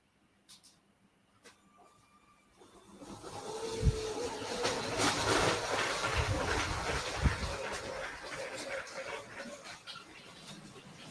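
A container train rolls through a video game, quiet at first and then swelling into a continuous rumbling, clattering rail noise with hiss and a few heavier knocks, fairly near and with no talk over it.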